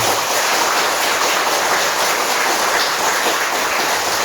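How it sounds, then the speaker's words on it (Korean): Applause from an audience at a Buddhist dharma talk at Hwaeomsa Temple on Jirisan, a dense continuous clapping that fills the whole stretch at steady volume. "만당스님께 다시 한번 큰 박수 부탁드리겠습니다."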